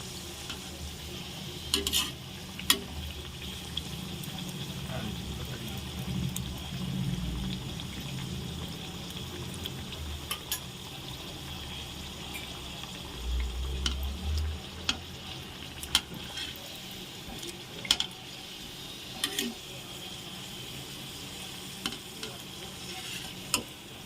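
Potato samosas, street style, deep-fry in hot oil with a steady, even sizzle that runs the whole time, broken now and then by faint clinks and stirring; no one speaks.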